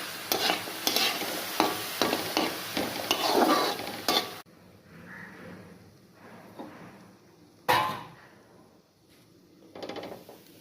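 Bitter gourd frying in ghee with turmeric, salt and chilli powder, heard as a busy sizzle with repeated stirring scrapes for about four seconds, then a quieter crackle with one sharp clatter.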